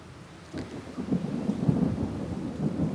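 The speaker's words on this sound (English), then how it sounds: "Oh, did you hear that? That sounds like thunder." Low thunder rumbles through an outdoor golf tournament, a sudden onset followed by a rolling, sustained growl with a faint rain-like hiss, moderately loud and distant-sounding, without talking.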